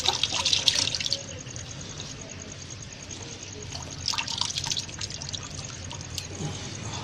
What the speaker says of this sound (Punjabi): ਆ 2 ਬਾਲਟੀਆਂ ਭਰ ਗਈਆਂ ਨੇ